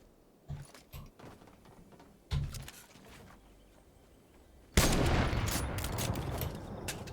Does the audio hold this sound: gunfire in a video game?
yes